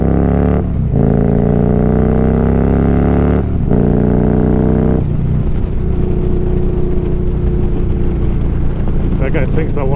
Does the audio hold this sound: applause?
no